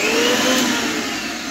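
A kitchen mixer grinder whirs steadily at close range, a loud continuous motor drone with a slight drift in pitch and no voices over it.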